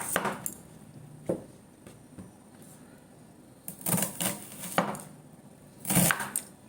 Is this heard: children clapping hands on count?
no